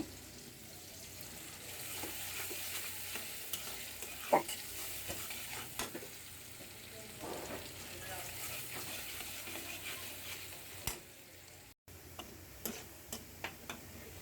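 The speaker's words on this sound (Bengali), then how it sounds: "পেঁয়াজ রসুন একসাথে ভেজে নিয়েছি লাল করে। এখন শাকটা বাগার দিয়ে দেবো।" Onion and garlic fry together until browned as greens are tempered. A quiet, continuous sizzle carries on throughout, broken by scattered clicks and taps of a stirring utensil against the pan.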